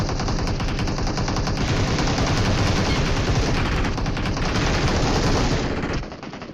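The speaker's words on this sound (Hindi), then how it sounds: "लेकिन दूर से फायर हो रहा गंदा वाला" Dense, continuous automatic gunfire rattles from a battle royale mobile game fight among apartment buildings, loud and unbroken for about six seconds before cutting off abruptly.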